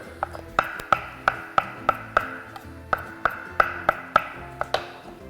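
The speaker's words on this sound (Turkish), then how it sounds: "Ve biraz dereotu doğrayacağım." A knife chops fresh dill on a cutting board in quick, evenly spaced taps, about a dozen crisp strikes in a steady rhythm.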